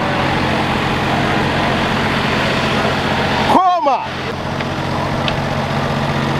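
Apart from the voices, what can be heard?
old school British lorry engine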